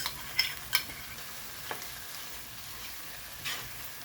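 Tomato paste frying with cooked peppers in a pot for corned beef and egg stew, a soft steady sizzle broken by a few sharp stirring clicks and scrapes, close but fairly quiet.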